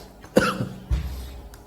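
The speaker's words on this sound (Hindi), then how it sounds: "सॉरी फॉर खांसी" A single close, hoarse cough from a teacher during a maths lesson, followed by a short throat-clearing rasp, in an otherwise quiet room.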